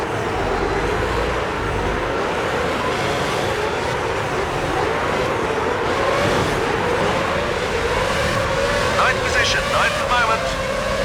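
A Formula 1 race car engine roars continuously in the F1 06 video game at the Malaysia circuit, a loud, steady high whine with a shifting pitch, and commentary is heard over it.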